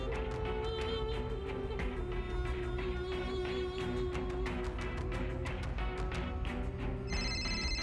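A telephone rings through a dense, busy background of music-like tones, the ring steady and moderately loud without a break.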